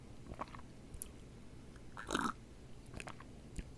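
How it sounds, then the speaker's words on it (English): Almond milk slurped from a glass: one short, wet slurp burst near the middle, with faint mouth clicks before and after in a quiet room. "It's hard to slurp almond milk from a glass, but how did I do?"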